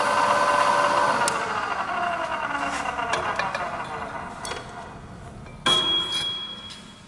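A Scotchman semi-automatic cold saw cuts through metal, giving a steady grinding, ringing whine that fades slowly, then a sharp clank near the end as the cut finishes.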